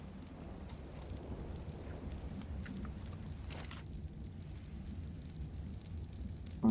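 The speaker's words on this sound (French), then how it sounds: "Magique, il pleut, d'un coup il pleut plus" Rain falls in the Ark video game, a soft continuous patter with low rumbling thunder underneath, faint and steady throughout, with a brief louder knock at the very end.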